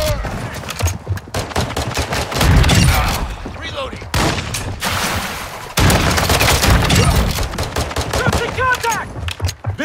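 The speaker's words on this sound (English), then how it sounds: "Están disparando." Rapid bursts of gunfire in Call of Duty Modern Warfare II's Infected mode, loud and dense automatic fire with brief pauses and echoing shots.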